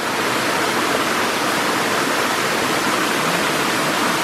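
Tall waterfall among rocky hills at Serra da Ponte Nova, Palmeiras de Goiás, pouring with a constant, powerful broadband rush, close and unbroken, with no voices.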